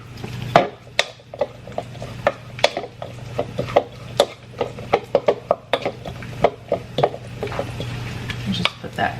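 A utensil stirs food in a pot, giving close, irregular scraping and clinking knocks against the cookware over a low steady hum.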